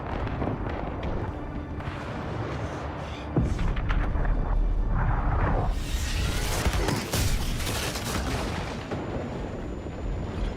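Explosion in the Battlefield video game: heavy booming blasts and rumbling crackle that build into a loud, sustained roar of debris and fire, with sharp bursts layered over a continuous low rumble.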